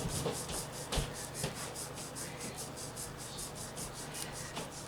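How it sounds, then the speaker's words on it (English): A fingertip rubbing paper down onto double-sided craft tape in a mixed media project, producing a steady, soft, close scratchy friction with faint rhythmic strokes and no talk. "You take your finger and you just rub."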